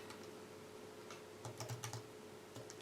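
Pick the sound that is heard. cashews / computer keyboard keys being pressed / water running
computer keyboard keys being pressed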